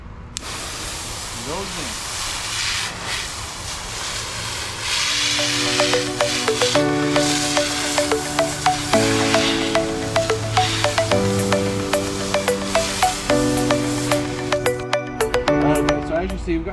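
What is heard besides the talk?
water hose spraying a stingray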